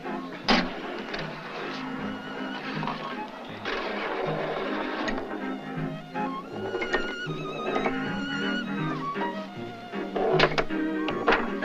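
A vintage pinball machine is played with a single ball, giving irregular thunks, knocks and mechanical clatter, with ringing bell-like tones and a busy burst near the end.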